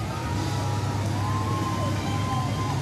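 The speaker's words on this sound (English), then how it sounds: "Listen to those small engines rumble together." A dense, steady rumble of small engines on Shriners' parade vehicles at a Mobile Mardi Gras parade, loud and continuous, with a faint rising siren-like whine over the crowd noise.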